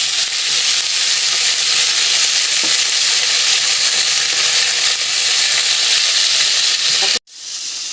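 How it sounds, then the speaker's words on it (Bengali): Cauliflower florets fry in hot oil in a pan for a Bengali cauliflower and potato curry, a loud, dense, continuous sizzle heard close up, cutting off abruptly near the end into a quieter hiss. "তারপরে কপিগুলো একটু লাল লাল করে ভাজবো"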